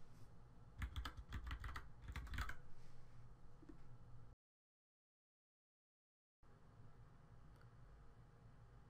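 Keystrokes on a computer keyboard enter a field label in Drupal 8, a quick burst of clicky taps at first, then softer scattered typing, faint and close, broken by a short silent gap.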